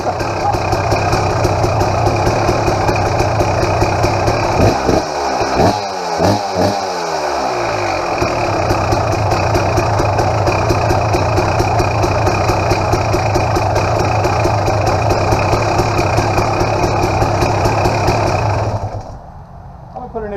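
A warmed-up KTM XCW300 two-stroke dirt bike engine runs steadily and loudly up close, with a brief revving flutter in the middle before it cuts off near the end.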